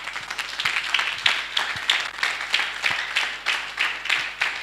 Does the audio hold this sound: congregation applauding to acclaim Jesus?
yes